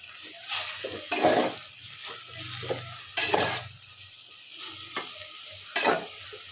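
Greens stir-fry sizzling in a pan while being stirred, with repeated scraping strokes of the spoon against the pan over a constant frying hiss.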